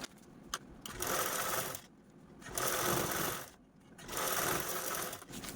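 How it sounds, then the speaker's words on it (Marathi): A sewing machine stitches a zipper onto fabric in three sustained bursts of steady, close whirring, separated by short pauses, with no talking. "या साईडने पण मी ही झिप आहे ती स्टिच करून घेतलेली आहे"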